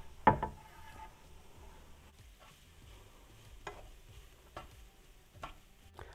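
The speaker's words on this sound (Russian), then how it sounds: "И вместе с перцем буду обжаривать около 5 минут." Beetroot, carrot, onion and bell pepper fry softly in a pan for borscht, a faint sizzle broken by a sharp knock at the start and a few light spatula scrapes and stirs.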